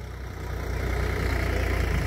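A new Swaraj 742XT tractor engine runs in a field, giving a steady, throbbing low diesel rumble that grows slightly louder and holds at a constant idle-like pace, close by with no talking.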